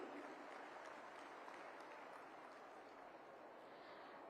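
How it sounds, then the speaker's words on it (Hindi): Dense, sustained applause from a large crowd at a Haryana government scheme launch event, even and continuous throughout without letting up. "एक बार जोरदार तालियां हो जाएं आप सभी की"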